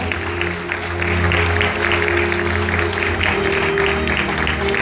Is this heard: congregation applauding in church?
yes